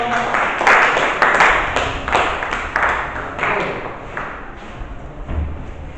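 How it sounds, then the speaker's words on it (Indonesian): A classroom audience applauds a group presentation, a scattered, fairly loud burst of clapping with thumps that fades over several seconds. "Kita kasih aplaus ya"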